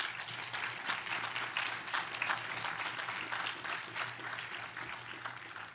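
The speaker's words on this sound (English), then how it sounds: "How about a hand of applause?" An audience at the commissioning ceremony of the submarine USS Hyman G Rickover (SSN 795) claps steadily in moderate applause, dense hand claps sustained at even volume throughout.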